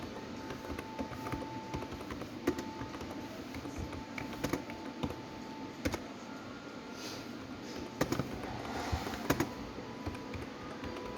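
Router configuration commands typed on a computer keyboard, a steady run of close, crisp key clicks with a few louder taps like the enter key, heard alone without speech.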